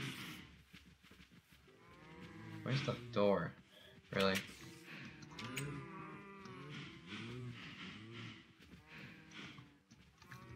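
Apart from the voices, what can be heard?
cows mooing in the video game Minecraft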